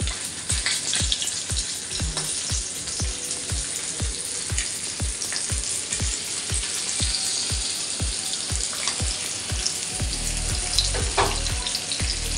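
Pomfret fish frying in a pan, a steady loud sizzle with regular rhythmic crackles and pops running throughout, close and unbroken, with no voices.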